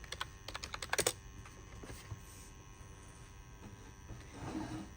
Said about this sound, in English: And let's just type sudo reboot.